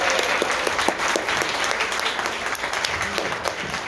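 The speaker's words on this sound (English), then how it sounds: "Please give her a huge round of applause." Applause from an audience at a live podcast show in New York City, a dense burst of clapping that holds steady for a few seconds.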